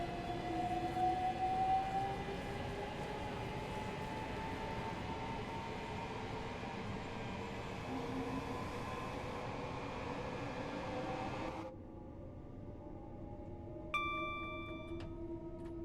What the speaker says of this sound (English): Sounds of the train are good as well.